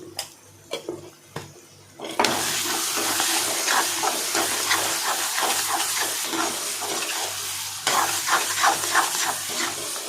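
Tomatoes and onions sauté in a pan, a few soft clinks at first, then a steady loud sizzle and spatter with stirring scrapes that swells again toward the end.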